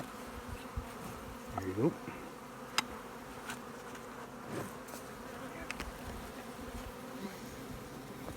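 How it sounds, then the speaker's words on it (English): Honey bees buzz in a thin, continuous drone around nuc boxes outdoors, with the occasional bee passing closer, while a person speaks briefly and quietly. "Just love these boxes of bees."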